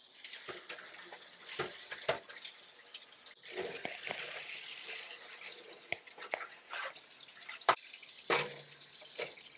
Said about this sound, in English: Okay, now we're going to rinse everything in cold water.